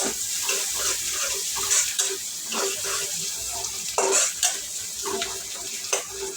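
Sliced onions frying in a pan for a raw-banana and hilsa fish curry, a steady soft sizzle with occasional clinks and stirring scrapes of a spoon against the pan, close by and with no voices.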